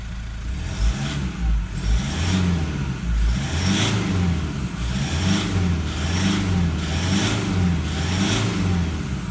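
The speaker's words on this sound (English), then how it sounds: "Smooth, quiet acceleration. That's what your 150 Prado should sound like." A Toyota Prado 150 diesel engine accelerates smoothly and quietly, its low hum rising and falling through several even cycles under a steady whir, heard from inside the vehicle with no voices.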